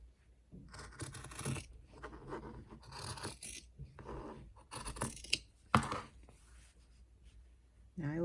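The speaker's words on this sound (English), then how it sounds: "Let me see if I can cut a straight line here." Scissors cutting a straight line through quilting fabric, quiet bursts of snipping and rustling in uneven strokes with short pauses between them.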